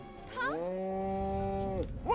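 A single long, drawn-out cow moo in the video game Destroy All Humans!, clear and sustained with a rising start and falling end, over faint background noise.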